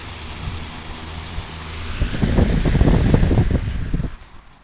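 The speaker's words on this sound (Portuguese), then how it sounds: "O barulho é só o vento." Wind blowing across an open outdoor area where a bearing-fitted fan is being tested, a steady rushing gust that swells loud and close for a couple of seconds before easing off.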